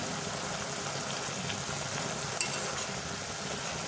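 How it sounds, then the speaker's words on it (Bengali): Leafy greens being sautéed in a pan for a homestyle greens-and-small-fish dish; a dense, even sizzle fills the short stretch, with faint stirring scrapes and one brief clack, no voices. "দেখেন আমি শাকটা ভালোভাবে কষিয়ে নিচ্ছি।"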